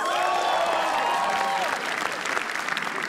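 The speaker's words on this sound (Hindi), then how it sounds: "श्रेया प्रेम रॉय के लिए तालियां प्लीज।" A live comedy roast audience breaks into loud, steady applause mixed with a few cheers, which thins out toward the end while a voice begins speaking over it.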